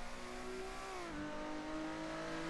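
A race car engine in the video game Assetto Corsa drones at high revs, its pitch dipping briefly as it shifts, then holding steady, with a faint synthetic quality and no talking.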